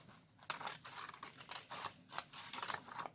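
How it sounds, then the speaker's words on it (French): Scissors snip through paper along a drawn line for an origami panda, a series of quiet, crisp cutting strokes repeating in an uneven rhythm close by. "nous attrapons la paire de ciseaux et nous allons venir découper sur le trait"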